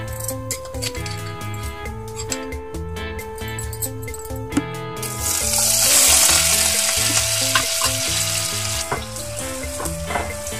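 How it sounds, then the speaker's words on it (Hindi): Chopped potato pieces fry in hot oil with a loud, continuous sizzle that swells and crackles as they settle, over music with a steady beat and melody, and no voices. "हम इन आलुओं को अच्छे से लाइट ब्राउन होने तक फ्राई करेंगे"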